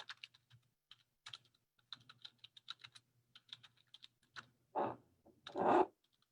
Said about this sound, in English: Typing over here